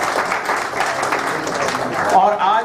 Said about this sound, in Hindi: एक ताली जरूर बजनी चाहिए इस बात की